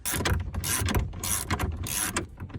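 An impact wrench working loose the seat bolts of a base model Mustang GT, giving bursts of rapid mechanical hammering that pulse in several loud, close runs with no talking.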